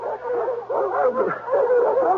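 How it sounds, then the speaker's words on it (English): Several dogs bark and yip continuously in a radio mystery drama, a dense overlapping chorus of close, loud barking and whining that fills the whole stretch. "What's disturbing the dogs?"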